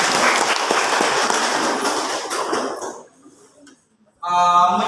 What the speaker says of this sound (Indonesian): mari kita berikan aplaus untuk tim kontra